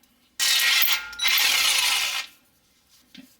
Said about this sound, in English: Go ahead and remove that castle nut right there.